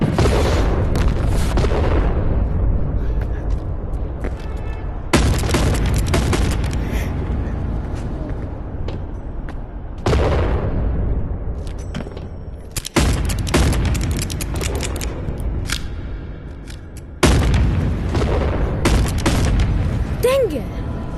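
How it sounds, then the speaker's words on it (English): Heavy artillery explosions in the VR game Animal Company land as deep booming blasts in repeated waves, each loud impact decaying into rumble, while players talk and shout over them. "Heavy artillery's here. Watch out."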